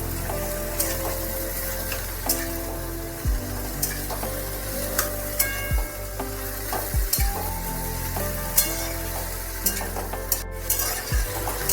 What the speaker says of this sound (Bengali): সেদ্ধ করে রাখা খোলাগুলো এর মধ্যে দিয়ে দেব ভালোভাবে একটু নাড়াচাড়া করে নিতে হবে